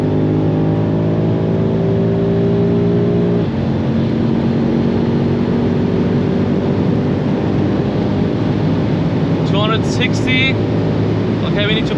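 A 2022 BMW M5 Competition LCI engine pulls hard under acceleration, its drone dropping abruptly at a quick gear shift before building again, loud and close from inside the car, with a few brief higher chirps near the end.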